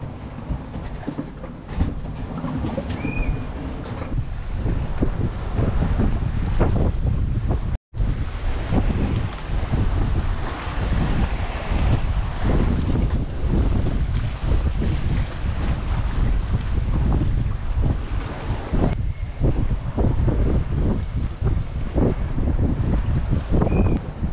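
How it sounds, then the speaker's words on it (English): Strong wind at sea on a sailboat roars and buffets the microphone continuously and loudly for the whole stretch, with a brief dropout partway through and no talk. "Wind's picking up a little bit."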